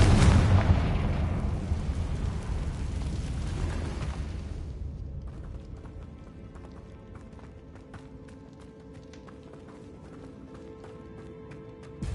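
Explosion from the Bombarda spell in Hogwarts Legacy, a heavy rumbling blast that swells loud at the start and rolls off over several seconds into a quieter tail with faint crackling debris.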